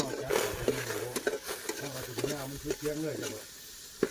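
Ingredients dry-roasting (khua) in a pan for home-style Isan fish larb, with steady close stirring and scraping and a light sizzle throughout, while a voice talks over the cooking for most of the clip.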